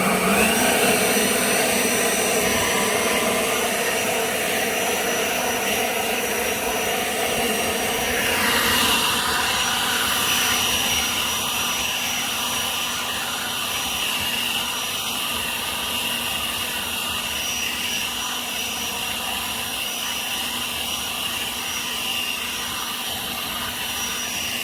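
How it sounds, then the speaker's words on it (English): An Alloyman 40V cordless leaf blower runs on its high setting outdoors, producing a loud, continuous whining whoosh that holds steady for the whole stretch with a brief surge partway through. "let's put this on high and see how well this thing can really blow these leaves"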